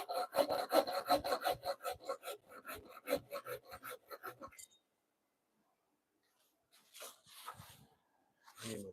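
A hand saw cuts wood in quick rhythmic back-and-forth strokes for several seconds, then stops to silence before a few more short scraping strokes.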